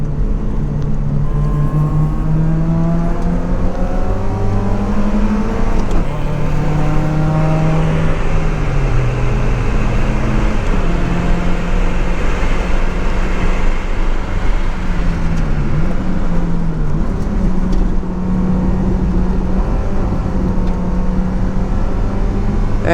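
A Mazda MX-5 Miata engine drones steadily and loudly while overtaking on a track, its pitch rising and falling as it revs through gears, with road noise constant throughout.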